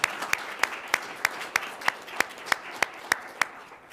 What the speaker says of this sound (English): we can give them an applause